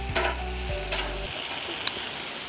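Southern-style chicken grills on a barbecue with a steady, close sizzle and crackle and a few sharper pops; a low hum fades out partway through.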